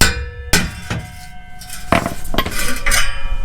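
Metal clanks as a black exhaust tip on a Ram truck is tapped loose: several sharp, ringing knocks spaced irregularly, fairly close and loud, with no talking.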